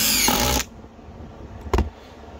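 A Dewalt DCF845 impact driver fires a loud, dense burst of driving for about half a second, then after a pause gives a second very short rattling burst, with no talk over it.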